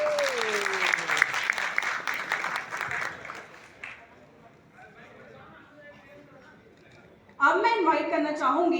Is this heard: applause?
yes